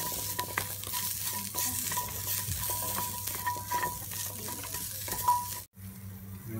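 Spices for Thai braised pork intestines stir-fried in a pan, a soft steady sizzle with scraping stirring strokes and occasional clinks, ending in a brief pause before the frying noise returns.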